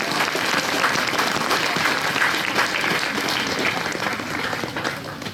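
An audience applauds a new wine queen at the Saint-Vincent wine festival of the Chablis region, with dense, steady clapping from many hands that fills the room and eases slightly toward the end.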